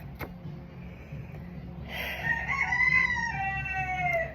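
A backyard flock of chickens with a rooster crowing once in a long, rising call after a brief sharp tap, with low clucking and background hum beneath, moderately close.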